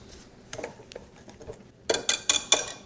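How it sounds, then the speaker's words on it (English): Cream of tartar whisked into a lemon mixture for lemon squares, starting as soft, light taps and then turning into a few quick, louder metallic whisk strokes against a bowl, close and without speech. "I'm going to put this cream of tartar in here. I'm going to give that a quick whisk."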